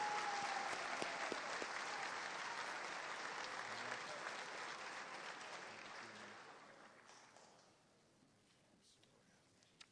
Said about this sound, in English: So big, huge round of applause to the Unified Track athletes.